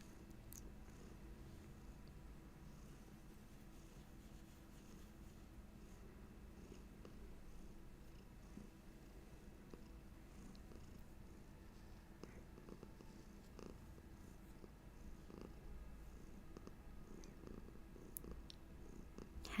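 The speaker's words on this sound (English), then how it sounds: "Hattie's got a couple of purrs for us." A cat purring softly and steadily, faint and close, with a low rumbling texture continuing throughout and no talking.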